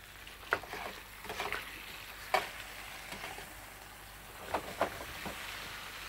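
Chorizo frying in a paella pan gives a soft, steady sizzle, broken by a few sharp scrapes and clinks as it is stirred.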